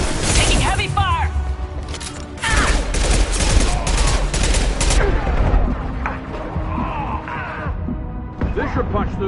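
Heavy sustained gunfire from the sci-fi shooter Mass Effect 2, dense overlapping bursts and cracks running nearly the whole time, loud and close, with combat voices shouting over the battle.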